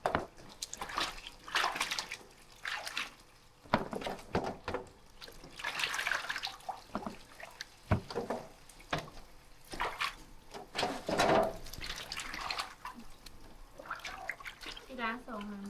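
Vegetables freshly picked in the evening being washed by hand in a basin of water, with splashing and swishing in irregular bursts under steady talk from a woman.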